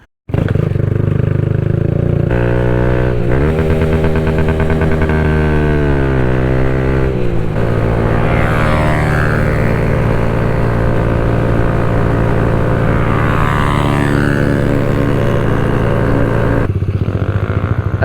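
Honda Grom small motorcycle engine heard up close while riding, loud and continuous with rising and falling revs through gear changes and a steady drone, no talk.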